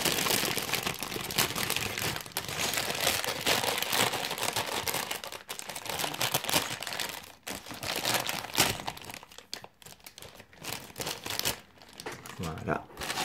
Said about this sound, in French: je vais bien faire en sorte de bien ouvrir mon polybag